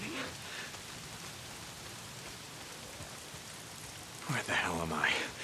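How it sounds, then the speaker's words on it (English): Steady rain hisses throughout in the video game Days Gone, with a voice speaking near the end over the downpour. "Why is it always raining?"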